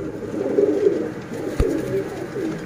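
A black-faced breeder pigeon coos in a low, continuous murmur close by, with a brief thump partway through; background noise sits steady under the calls.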